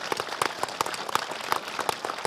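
Audience applause at an evening debate event, a steady patter of many hands clapping throughout, fairly close and even in loudness.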